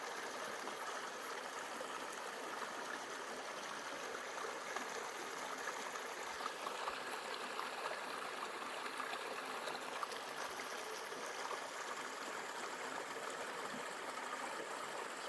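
A small creek flows below overhanging forest in the Silver Peaks hills of New Zealand. The water makes a steady, even trickle and babble that carries on quietly with no voices.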